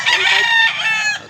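Loud close crowing from a white Kelso rooster at Mantalungon, Cebu, a single hoarse, sustained call of about one second that ends abruptly.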